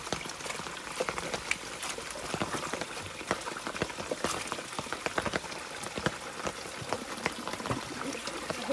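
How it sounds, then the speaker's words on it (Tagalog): Nami, a wild yam, being washed by hand in water, giving a steady close splashing and sloshing with many small drips and knocks, continuous and moderately soft, without speech. "Dito ang matinding hugas ngayon"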